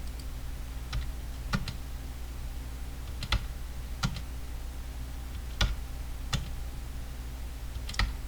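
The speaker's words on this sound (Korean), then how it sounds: "홈키 누르고 스페이스바 할게요" Computer keyboard keys, including the Home key and spacebar, are tapped with sharp, isolated clicks, roughly a dozen spaced irregularly over a quiet background hum.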